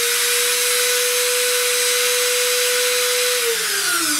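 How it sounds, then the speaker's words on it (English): A trim router spinning on a SainSMART 6050 Plus CNC router whines loudly and steadily at a constant high pitch, then the tone slides downward as it begins to spin down near the end, with no one speaking. "it can be a little noisy with this trim router"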